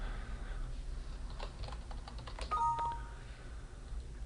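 Password being typed on a computer keyboard, a quick run of faint, light key clicks followed by a short beep, over a low background hum.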